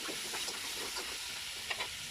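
Tomatoes frying in a pan for sinigang sa miso, a soft steady sizzle with light stirring scrapes, fairly quiet and close with no talk.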